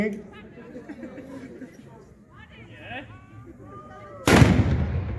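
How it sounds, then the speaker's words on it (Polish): A small hakownica hook gun fires a black powder shot at a knightly show celebrating the town of Żory's 750th anniversary: one sudden, very loud close blast that rings out after a stretch of crowd chatter and talk. "Niby maleńka, zobaczcie e, jak głośno wystrzeliła."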